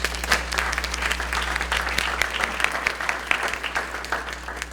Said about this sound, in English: So let's give them a little bit round of applause